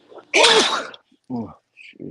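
A single loud sneeze bursts out near the start, with people talking briefly before and after it during a live sports show.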